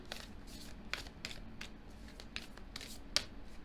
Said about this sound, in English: Let's shuffle it a little bit more.